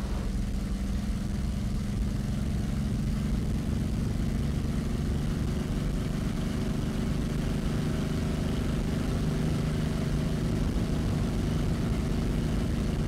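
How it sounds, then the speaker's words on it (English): A P-40 Warhawk fighter plane's piston engine drones steadily as a low, continuous rumble heard from a moderate distance, holding an even level without pauses or voices. "Here is Derek Dods and the P-40"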